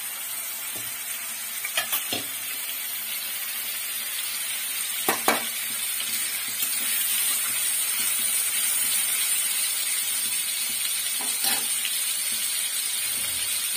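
Salted, turmeric-coated fish fat frying in a wok, a loud steady sizzle that fills the whole stretch, with a few clinks and scrapes of stirring.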